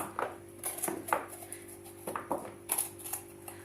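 A knife cuts Kapya capsicum peppers in half for mixed pickles, making a handful of faint, sharp chops and taps on a board, spaced irregularly in a quiet kitchen.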